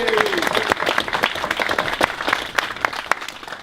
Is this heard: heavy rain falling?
no